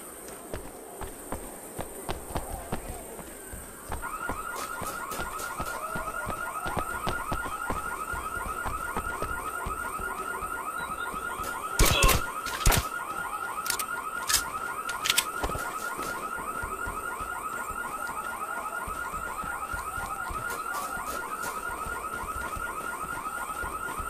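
A continuous electronic alarm blares in the I.G.I.2 video game mission at Priboi's Villa, starting a few seconds in and holding steady with a pulsing tone, accompanied by scattered sharp gunshot-like bangs.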